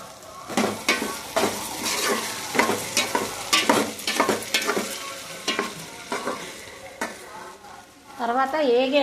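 Vegetables being stir-fried in an uncovered pan, with repeated scraping stirs and a steady sizzle, a spatula knocking the pan now and then, and a faint voice briefly near the end.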